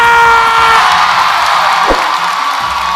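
A crowd at an Indonesian TV show shouts and cheers when asked, a loud continuous roar that holds steady for the whole stretch.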